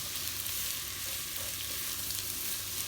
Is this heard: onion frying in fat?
yes